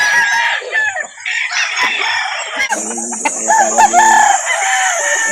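Several roosters crow loudly with drawn-out, wavering calls, mixed with busy clucking from other fowl close by, at a poultry market in Calauan, Philippines.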